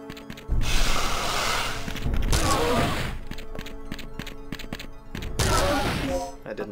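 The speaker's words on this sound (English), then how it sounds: "Use up all my handgun bullets." Handgun shots and impact effects in the Dino Crisis video game come as several loud bursts with sharp transient clicks in between, set against in-game background sound.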